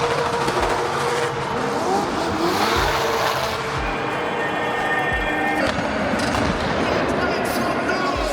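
Naoki's drift car screams through a Drift Masters qualifying run, the engine revving hard and tires squealing in long, loud skids, heard from the grandstands with a commentator talking over it.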